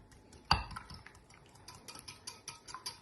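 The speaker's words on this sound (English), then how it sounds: "I'm going to use a whisk and whisk all that together" A whisk beats olive oil into a bowl of liquids for muffin batter, opening with a sharp clink against the bowl and followed by light, rapid metallic tapping and swishing at close range.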